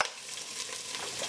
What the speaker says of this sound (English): I'm going to throw those in and let those fry along